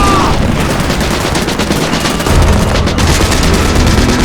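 Sustained rapid gunfire from a film-set battle scene, dense overlapping bursts of shots continuing loudly throughout without pause.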